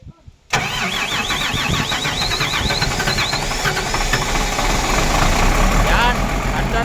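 An engine cranks and catches abruptly, then settles into a loud, steady running rumble with a rough mechanical clatter, while people talk over it.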